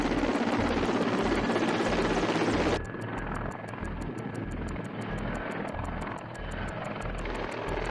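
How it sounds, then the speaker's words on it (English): Russian attack helicopters, Mi-24, Mi-28 and Mi-8 types, thumping with rapid rotor beats over a dense turbine drone, loud at first and then slightly more distant with sharp regular blade slaps. "how its attack helicopter squadrons were preparing in the morning hours"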